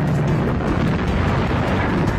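An anti-aircraft rocket launch effect in a clay toy battle scene, a dense, sustained roaring blast that stays loud and rumbling throughout.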